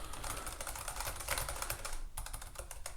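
Rapid, dense typing on a Keychron mechanical keyboard, with close, bright clacking keystrokes running continuously throughout and a brief lull just past the midpoint before the clatter resumes.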